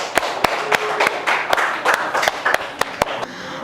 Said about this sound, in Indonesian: Beri tepuk tangan dong untuk Mas Andre